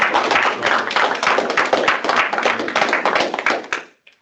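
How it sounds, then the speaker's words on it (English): Student senate general assembly audience gives a round of applause, a modest group of distinct, crisp hand claps forming a lively patter that tapers and stops abruptly near the end. "I want to give Ms. Cody White a big round of applause."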